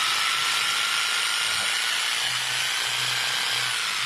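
A Ryobi Kyocera J6500V 400 W jigsaw running after its trigger switch is pressed, a steady loud buzzing motor whine throughout with slight shifts in speed and no talk.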